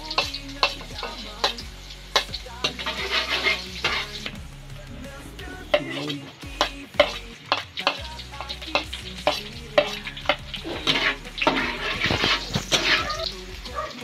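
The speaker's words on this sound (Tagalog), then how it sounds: "Luya muna para magisa" Ginger sautés in hot oil in a pan, cooked as the start of an octopus dish. A bright sizzle runs under repeated scraping and clattering strokes of the stirring spoon, and a voice is briefly faint in the background.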